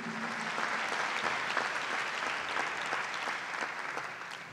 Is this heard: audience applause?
yes